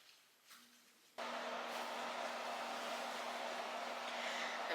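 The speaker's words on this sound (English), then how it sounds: "I'm really sorry if you can hear that heater" A space heater running inside a car switches on with a sudden jump to a loud, steady broadband whoosh and a low hum that hold without a break to the end. Before it kicks on there is only a faint room murmur.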